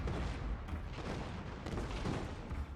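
Cannon-like booming shots from an avatar bodyguard unit in a Total War multiplayer battle, mixed into a dense, continuous rumble of gunfire and battle noise with repeated heavy reports.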